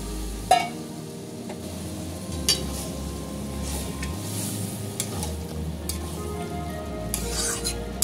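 Green peas tipped into a pan of cooked-down chicken masala for ghugni, with a sharp clatter as they land, then a steady sizzle and frying crackle broken by the scrape and clink of a spoon stirring against the pan.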